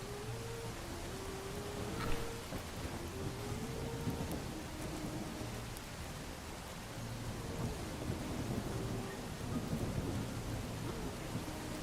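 Steady rain hiss with rolling rumbles of thunder in a video game world at nightfall, a low musical tone line weaving underneath and a brief louder crack near the start.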